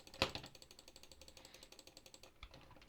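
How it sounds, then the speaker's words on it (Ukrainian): Rapid mouse clicking while playing a bubble gum game on a computer, a steady run of sharp, close clicks in quick succession, fairly quiet and without talk. "Клікаю і клікаю, клікаю і клікаю."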